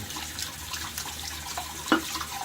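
Water from a tap pours into a shaving bowl, a continuous close splashing stream with a sharp clink or knock partway through.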